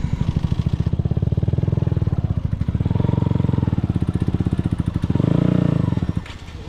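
A motorcycle stuck in mud on a night ride revs its engine in a steady, close, throbbing rumble that swells twice before easing off.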